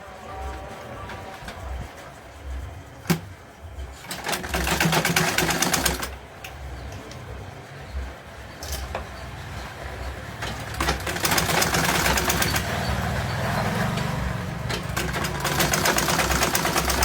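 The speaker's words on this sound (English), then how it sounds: "You sew the other side too." A sewing machine stitches the side of a tote bag in steady, close, rhythmic bursts, with brief pauses and restarts between runs.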